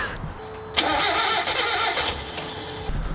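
An engine in an old garage cranks and tries to catch, with a steady mechanical starter churn, a rising roar as it nearly fires, then it cuts off.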